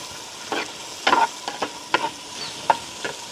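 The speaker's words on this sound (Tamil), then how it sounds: "வெங்காயம் பச்சை மிளகாயெல்லாம் பதங்கிட்டுது" Onions and green chillies sauté in a pan for a village-style crab curry, with short scraping stir strokes arriving in irregular bursts over a low, steady frying hiss, close and fairly loud.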